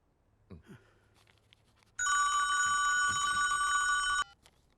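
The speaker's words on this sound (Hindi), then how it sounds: "कौन बार बार फोन कर रहा है?" A telephone rings with a bright, continuous electronic trill for about two seconds, loud and close, after a few faint rustles.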